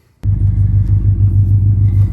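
A Subaru BRZ/FRS engine fitted with a Tomei overpipe starts abruptly and settles into a steady, deep idle rumble, close and loud, with no talking.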